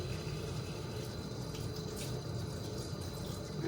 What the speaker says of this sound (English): So I'm gonna turn on the faucet,